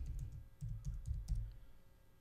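Rapid bursts of keystrokes clatter on a computer keyboard, close and quiet, in short uneven runs with brief pauses between them.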